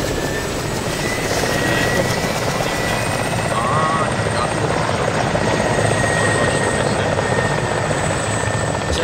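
A helicopter in the military game ArmA 2 with the ACE mod gives a loud, continuous rotor and engine roar that holds steady throughout, with no pauses.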